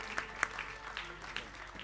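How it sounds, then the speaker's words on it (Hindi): Scattered, fairly faint clapping honours Vedic school students at a Bhagavat devotional gathering, a few distinct sharp claps standing out over a thin, uneven patter. "तालियों के साथ, आनंदमय तालियों के साथ"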